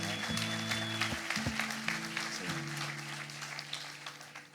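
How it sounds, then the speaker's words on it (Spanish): An audience applauds steadily through a conference plenary session for attendees from Paraguay, the dense clapping accompanied by sustained low musical tones. "Así que démosle un aplauso a los paraguayos."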